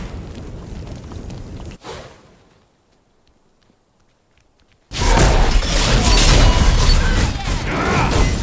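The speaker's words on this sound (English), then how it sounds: "Enemy tower destroyed." Explosion of a destroyed enemy tower in the multiplayer video game Fault, a sudden loud, sustained roaring blast that follows a fading rumble and a near-silent lull.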